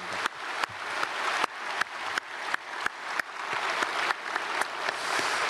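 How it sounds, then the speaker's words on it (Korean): Enthusiastic applause from a church congregation during a Sunday service, with a dense, steady clatter of many hands clapping and repeated sharp individual claps over the top. "다시 한번 격려의 박수"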